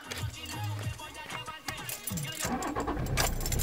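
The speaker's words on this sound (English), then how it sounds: "so start the car." A car engine starting after a day of kart racing: key jingle and cranking leading into a running engine, fairly close, with some faint talk mixed in.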